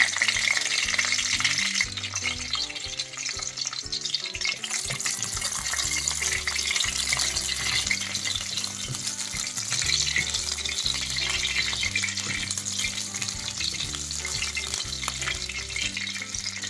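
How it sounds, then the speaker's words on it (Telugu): Green chillies sizzle steadily in hot oil in a pan, a continuous loud frying hiss with occasional stirring, cooked for a brinjal curd chutney. "వేసుకొని ఇలా తెల్లగా వచ్చేదాకా వేయించుకోవాలి"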